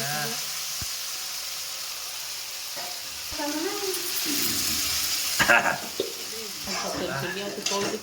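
Vegetables fry in ghee in a pot in a rural Odisha kitchen with a steady close sizzle and bursts of stirring and clatter, while people talk over the cooking.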